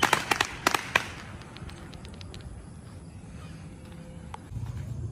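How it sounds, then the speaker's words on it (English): Kids setting off firecrackers at night in a Malaysian village during Ramadan, a quick cluster of sharp pops at the start followed by scattered fainter cracks over a quiet outdoor background. "You can see the kids, they are cracking fireworks"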